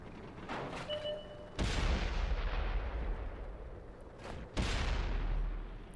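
Tank cannons fire in a World of Tanks battle on Xbox 360: two heavy booming shots ring out with long rumbling decay, the first preceded by softer distant thuds, with no talking.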